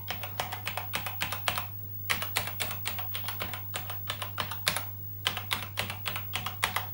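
Keys pressed in rapid, uneven bursts on a Thomson TO9 computer keyboard, loud clicky strokes with short pauses between runs, over a steady low mains hum and no talking.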